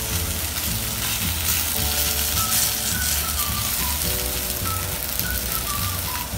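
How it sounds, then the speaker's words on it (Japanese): Hiougi scallops dusted in potato starch sizzle steadily in a hot oiled frying pan, a continuous close crackle and hiss with faint occasional clinks, no voices. "熱したフライパンにですね、油を引いていただいて、片栗粉をねまぶして焼いております"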